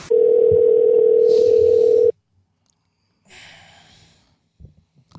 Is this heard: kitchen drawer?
no